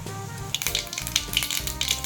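Cumin seeds crackle and sizzle in hot cooking oil at the start of a Tamil-style broad bean (avarakkai) poriyal, a dense close frying hiss with small sharp pops scattered through it.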